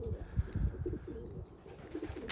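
Young racing pigeons coo softly up close, several low, throaty burbles overlapping in a short, busy stretch.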